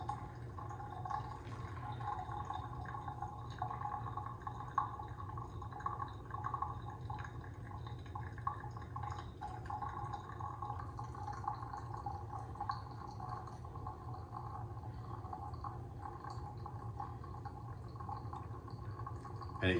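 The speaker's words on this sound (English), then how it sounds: "we want to continue to add water until we get up to approximately" Hot water from a kettle trickles steadily into a Chemex paper coffee filter, a soft, continuous pouring and dripping heard alone and fairly faint throughout.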